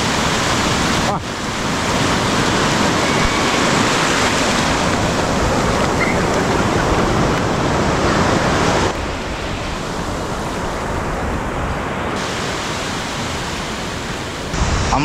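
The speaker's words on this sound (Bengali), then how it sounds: "আমরা এই বিচে অনেকক্ষণ টাইম কাটালাম।" Steady roar of ocean surf washing onto a Goa beach lined with coconut palms, broadband and continuous with slight wind buffeting, loud and close throughout.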